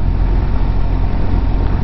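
A motorcycle being ridden, its engine and wind rumbling loud and steady from the rider's position throughout, with no talking.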